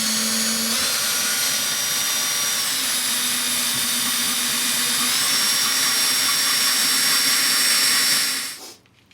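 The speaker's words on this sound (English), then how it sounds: "he's just going to drill very slowly" A power drill drilling slowly into a Weber grill whines steadily for several seconds at a constant, fairly loud pitch, then winds down and stops near the end.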